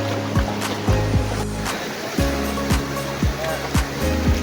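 Floodwater rushes in a river at Maasin Dam, Brookes Point, Palawan, making a continuous broadband wash. A motor revs repeatedly in rhythmic surges over it, and a voice speaks briefly.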